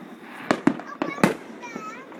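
Fireworks bursting outdoors in Peculiar, several sharp cracks and pops in quick succession over a steady crowd-like background hum, with faint voices around.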